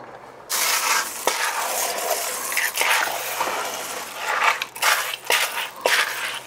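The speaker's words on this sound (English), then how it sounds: "And then we stir it all up." Goulash with garlic stirred in a pot, close scraping and clinking of a utensil against metal in uneven bursts over a soft sizzle.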